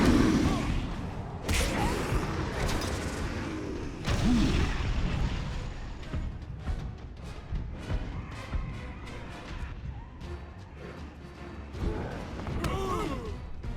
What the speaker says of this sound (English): I forgot how loud this section is because of all the explosions.